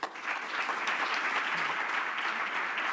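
An audience at the Premio Planeta literary award ceremony applauds with a steady, even wash of clapping from many hands, moderately distant and without voices.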